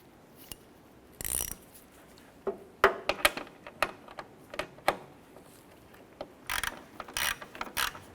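Nut being snugged down on the back of a marker light on a 1993-1997 Ford Ranger, heard as scattered close metallic ratchet clicks and short bursts of rattling.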